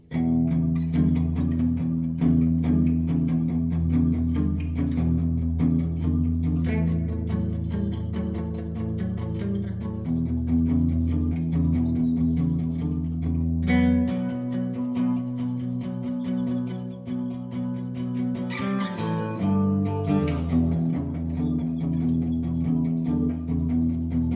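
A Les Paul electric guitar with a Tribute-style pickup setup and coil splitting plays a continuous stretch of full, sustained chords and riffs, loud and steady with no voices over it.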